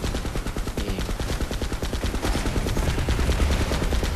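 Rapid bursts of automatic gunfire rattle continuously in the video game PlanetSide 2, dense and steady, with a synthetic game-like quality and no voices.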